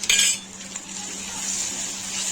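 A spoon scrapes and clinks in a pan as red chili powder is stirred into fried onion and tomato, a bright metallic rattle at first and then a soft steady sizzle with light stirring; no talk.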